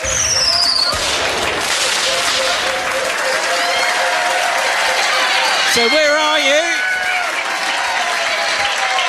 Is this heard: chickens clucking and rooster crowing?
no